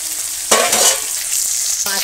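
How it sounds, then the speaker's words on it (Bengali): Pieces of katla fish fry in hot oil in a village kitchen, giving a steady close sizzle with a louder burst as the pieces are stirred partway through, then a quieter bubbling hiss, with no talk. "এখন এই মাছটা ভেজে নিচ্ছি।"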